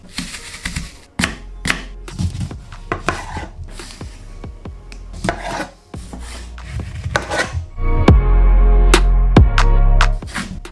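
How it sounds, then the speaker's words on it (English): A kitchen knife slices fresh fruit such as lime on a cutting board, giving a run of crisp, close chops and scrapes at an uneven rhythm, with heavier, louder board knocks toward the end. "you want to thinly slice your fruit but not too thin"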